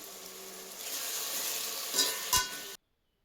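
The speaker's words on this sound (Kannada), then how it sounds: "ಅದನ್ನು ಸಹ ಎಣ್ಣೆಯಲ್ಲಿ ಫ್ರೈ ಮಾಡ್ಕೋಬೇಕು, ಸ್ವಲ್ಪ ಹಸಿ ವಾಸನೆ ಹೋಗೋವರೆಗೂ" Masala paste for mutton biryani sizzling in hot oil, a steady close frying hiss with a couple of brief stirring scrapes near the end before it cuts off.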